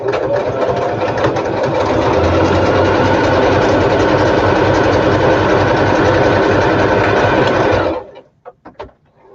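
Sewing machine stitching a decorative pattern into a stacked journal, a loud continuous mechanical whir running steadily for about eight seconds before stopping abruptly, followed by a few faint clicks.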